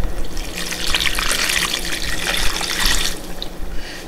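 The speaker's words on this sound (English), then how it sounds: "I'm gonna grab some water." Kitchen tap running water while cooking turkey wings, a steady bright rushing and splashing stream with gurgling fluctuations, close and fairly loud, alone without talk.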